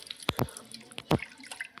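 Water splashes onto a tulsi plant in summer heat as it is watered, two distinct splashy pours landing close by with faint dripping between them, no voices.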